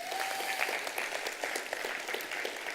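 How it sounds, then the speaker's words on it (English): A church congregation applauds steadily throughout, a dense wash of many hands clapping at moderate level with a faint tone briefly audible early on. "Give those people a clap, please."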